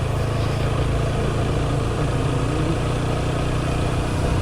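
A TVS Apache motorcycle engine idles with a steady, close, low rumbling throb, loud and unbroken throughout, with no talking.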